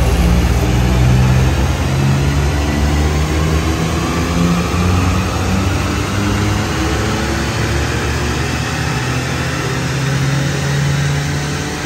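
A VW Up TSI with a Stage 3 remap pulls away hard from a standstill, its engine droning loud and steady at close range for the whole stretch, with a faint high whine running above it.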